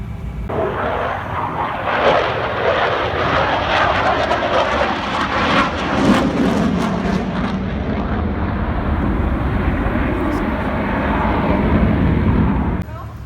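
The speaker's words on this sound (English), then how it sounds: "Boeing came in strong with one of their newest variants of the Boeing 737 family, the 737 MAX 10." A Boeing 737 MAX 10 jet airliner flies at the Paris Airshow 2023, its loud engine roar steady and broad for about thirteen seconds, with crowd or commentary voices faintly mixed in.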